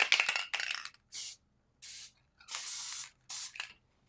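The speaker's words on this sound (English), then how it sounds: "I think I'm just going to really quickly do the spray." Spray adhesive hissing from an aerosol can onto a craft card, in several short bursts of about half a second each with brief pauses between, close and fairly quiet with no talking.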